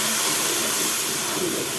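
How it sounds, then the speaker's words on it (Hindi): A spoonful of water hits hot tomato masala in a pan, giving a steady, close, broad sizzling hiss of steam that runs evenly throughout without pause. "तो अब हम इसमें सिर्फ और सिर्फ 1 स्पून वाटर शामिल कर देंगे।"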